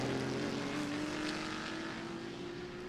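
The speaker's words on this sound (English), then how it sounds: "You see the red Corvette coming up onto the straight." Race cars, a red Corvette leading, roaring along the straight at Sebring in a vintage and modern racing event, with one steady engine drone held at high revs, slowly fading as it passes into the distance.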